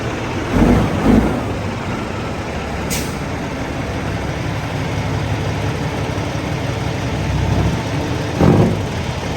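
A Kenworth W900 truck with a rebuilt 550 hp Cummins ISX engine out on a test drive, a steady low engine rumble throughout with a brief high air hiss and a few louder thumps.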